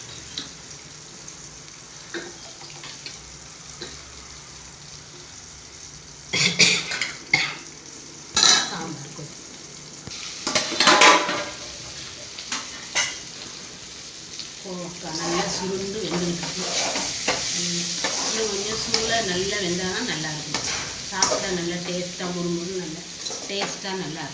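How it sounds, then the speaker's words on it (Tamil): Curry bubbling in a pot with a spoon scraping and stirring, a few louder clatters early on, then steady simmering with light talk in the background. "நல்லா கலக்கி விட்டு கொதிக்கணும்"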